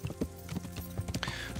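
Horse hooves clip-clop at a walking pace in the video game Kingdom Come: Deliverance, an uneven run of close, muffled thuds with faint ambient noise behind.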